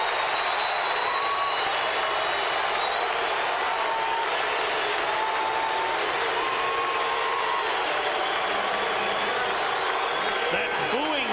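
Baltimore Orioles home crowd at a 1990 baseball game against the Royals, chanting the nickname Moose for Milligan as a long, low droning roar that resembles booing, steady and broad behind a play-by-play announcer talking throughout.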